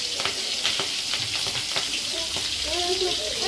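Green chillies frying in a pan for a hostel-style okra curry, a loud continuous sizzle of hot oil with scraping stirs and small crackles throughout.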